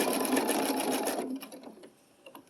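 Sewing machine stitching a blanket stitch on appliqué, a close rapid mechanical whir with needle clatter for about a second before stopping, leaving faint clicks.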